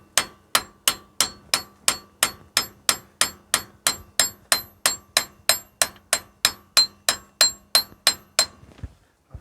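A hammer gently taps out the wheel hub seal and bearing on a Mitsubishi 3000GT/GTO 4WD rear hub: about twenty-two sharp, evenly spaced metallic strikes with a ringing clink, close and loud, then a pause at the end.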